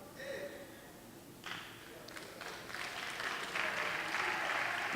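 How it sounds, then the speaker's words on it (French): Church conference congregation breaking into applause, starting thin and quiet, then swelling into fuller, louder clapping toward the end, with faint voices mixed in. "Vos acclamations sont timides."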